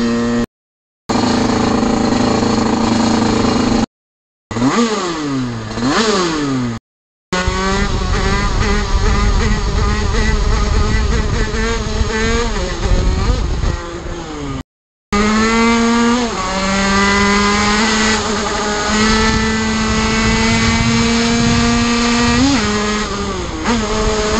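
A moped engine fitted with an 88 Big Racing kit warms up, revving loud and close with pitch sweeping up and down, broken by several short cuts.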